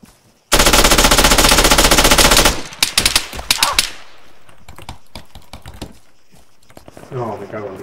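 A sustained burst of loud, rapid machine gun fire in Arma 3 battle royale runs for about two seconds, followed by scattered single shots and crackles, with a player's voice talking near the end.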